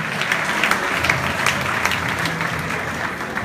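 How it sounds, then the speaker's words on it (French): An audience applauds a diamond director, dense steady clapping from a crowd filling the room throughout, loud and close. "On applaudit Pierre Mangio, diamant directeur."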